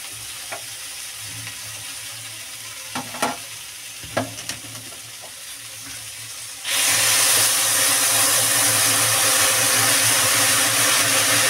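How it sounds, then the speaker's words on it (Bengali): Water poured into a pan of frying vegetables, quiet light sizzling with a few clinks, then a sudden loud, steady hiss and boiling roar as the water hits the hot oil. "এবার আমি জল ঢেলে দেবো।"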